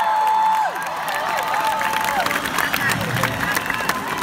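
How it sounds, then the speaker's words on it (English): Concert crowd of thousands at an outdoor show in Newmarket roaring with cheers and applause, a dense, sustained wash of clapping and shouting with whoops rising over it, loud and continuous throughout. "Give yourselves a round of applause."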